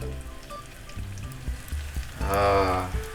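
Lumpia sizzle and crackle steadily in hot oil, rising to a louder burst of frying near the end, with soft clanks and a voice in the background.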